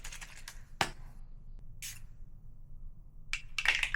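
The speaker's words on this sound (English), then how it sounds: "the spray on this is so good. Like, the particles actually disperse." Fenty Beauty face mist spritzed in a few short, soft hissing bursts, spaced apart with quiet gaps and a quicker double burst at the end, close by and with no talking.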